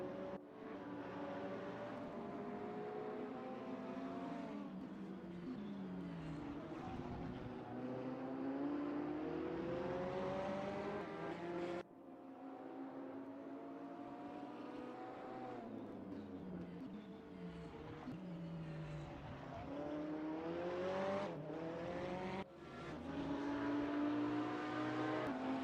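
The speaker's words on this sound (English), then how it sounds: "Just enjoy the sounds of the cars here for a little bit." Race cars in RaceRoom scream around the Motegi East circuit, engines rising and falling through repeated upshifts and downshifts, loud and continuous with no talk over them.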